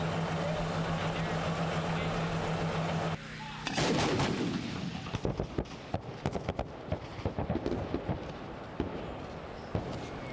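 M109 self-propelled howitzer artillery firing: a steady low rumble gives way to a loud blast, followed by a burst of sharp cracks and reports.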